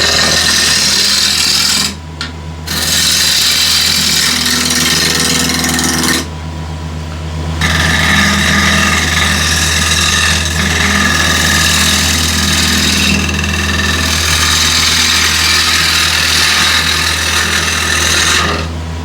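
A wood lathe spins a bowl with red wings while a ball gouge cuts it, giving a steady motor hum under continuous scraping and rasping that dips briefly twice, with no talking.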